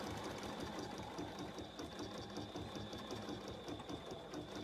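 A BERNINA sewing machine stitches embroidery on a garden flag, a close, steady rapid needle chatter with a constant motor whine running throughout.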